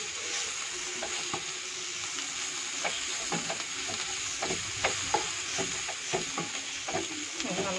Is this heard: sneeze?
no